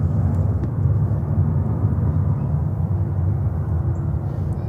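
An Avianca Airbus A320 airliner departing JFK for San Salvador gives a steady, loud, low jet roar that holds throughout, with no voices over it.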